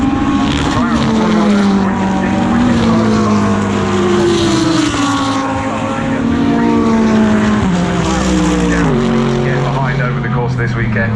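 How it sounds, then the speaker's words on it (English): Jota number 38 GT race car at speed in practice at Brands Hatch, a loud sustained engine roar with shifting pitch as it passes, under a commentator's voice. "Through goes the 38 car,"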